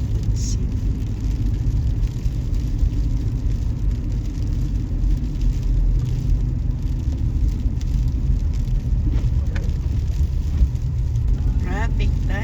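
Road traffic crawls along snowy Mavis Road in Brampton and Mississauga, Ontario, a steady low rumble of car engines and tyres on wet road with soft passing swells, close by and continuous, with people talking over it.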